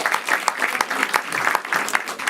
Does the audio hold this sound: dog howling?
no